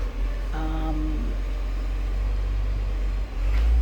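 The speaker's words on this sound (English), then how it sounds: "look at the garbage truck" A garbage truck passes on a street, giving a heavy, low engine rumble that holds steady and swells louder near the end.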